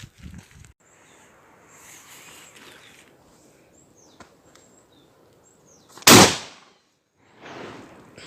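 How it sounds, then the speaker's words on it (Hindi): A single loud shot from an antique English 12-bore double-barrel shotgun fired outdoors at about 100 metres range, a sharp blast followed by a fading tail, with quiet ambience and faint bursts of sound before and after. "बहुत उम्दा, बहुत बढ़िया फायर था, बहुत सुपर फायर था ये"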